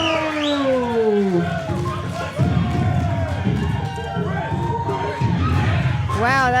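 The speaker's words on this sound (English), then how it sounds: "Wow, that is quite a reception. Crowd on their feet." A fight crowd roars and cheers as a boxer from Fresno, California, Prince Gabriel, makes his entrance, loud sustained cheering and whistles with an announcer's voice and a siren-like horn riding over the noise.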